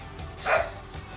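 A single short dog bark rings out at middling distance, with faint background noise around it.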